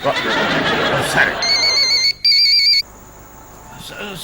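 A telephone rings loudly in warbling electronic bursts with a brief gap, following noisy chatter and laughter, then fades into quieter room sound.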